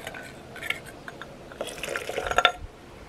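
Tamarind water pours into a cooking pot for a northern Thai jo phak kat dish, a soft liquid trickle with light splashes and drips that builds toward the end, close and fairly quiet with no talk.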